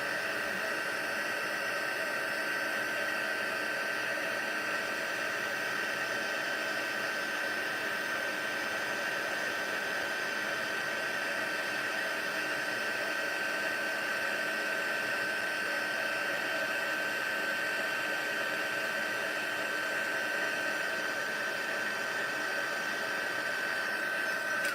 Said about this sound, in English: I'm just heat embossing it.